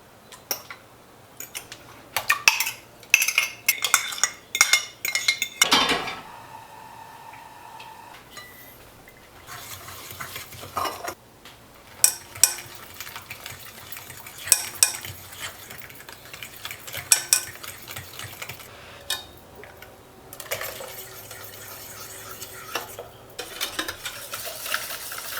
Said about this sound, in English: You do want the bananas smashed up very, very finely because we want the custard to be nice and smooth and not chunky